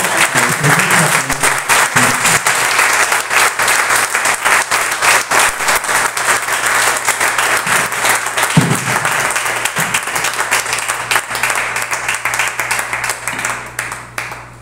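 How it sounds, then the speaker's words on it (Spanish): A congregation bursts into loud, prolonged applause, many hands clapping densely and steadily for a long stretch before tapering off at the end. "les pido pues un fuerte aplauso al Creador de este"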